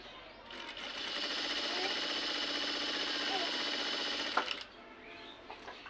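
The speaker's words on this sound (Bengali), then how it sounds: "আমি জাস্ট এটা এখন একটা লম্বা করে সেলাই দিব" A sewing machine runs a long continuous seam, stitching piping onto the side of a garment in a steady rapid whir of about four seconds before stopping.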